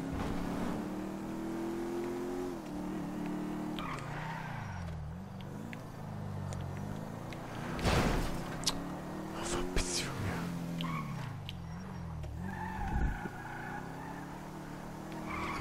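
A car in GTA V drives with a steady engine drone that rises and dips, with tires squealing in a few skids, heard up close while people talk quietly in German.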